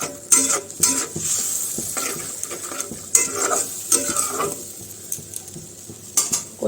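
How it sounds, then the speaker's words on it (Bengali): Turmeric, cumin and chili powder masala being sautéed in a pan, with steady stirring and scraping of a spoon against the pan and intermittent clinks over a soft background sizzle. "এখন মশলাটা একটু কষিয়ে নেবো"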